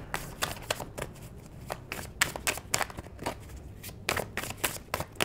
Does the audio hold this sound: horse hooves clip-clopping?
no